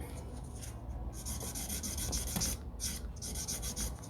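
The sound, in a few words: buffer file polishing a polygel nail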